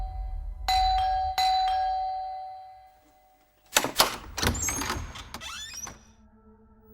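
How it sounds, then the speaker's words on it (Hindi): An indoor doorbell rings in two bright chimes near the start, each ringing out for a moment, before footsteps, handling noises and clatter take over. "कब से डोरबेल बज रहा है"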